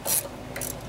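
A short ratcheting click burst followed by a faint scraping rub as carburetor screws are snugged down on a Briggs and Stratton opposed twin-cylinder engine, close and quiet, with no voice.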